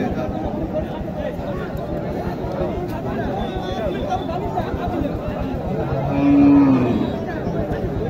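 A cow moos loudly at a busy desi cattle market in Naogaon, a long low call swelling near the end over a constant hubbub of nearby people talking.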